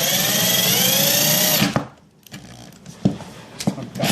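A power drill whines loud and close as it bores a hole about an inch wide through the fiberglass hull of a Bayliner boat, then cuts off, followed by quieter knocks and handling sounds.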